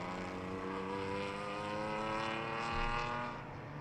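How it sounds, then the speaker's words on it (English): Classic racing cars lapping the Jarama circuit, a steady distant engine drone with a gentle swell near the end, faint and continuous. "As you can hear, we already have cars on the circuit"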